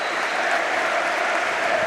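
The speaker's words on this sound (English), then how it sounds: "Charlton fans applaud them" Charlton and Sheffield Wednesday football supporters applaud together inside a stadium, a steady, dense wash of clapping that holds evenly from start to finish with no voices standing out.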